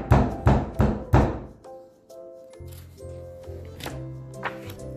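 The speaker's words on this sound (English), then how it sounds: "Suddenly, there was a loud banging at the door." Three loud, heavy thumping knocks at a door, evenly spaced and close, followed by quieter tapping and creaking sounds.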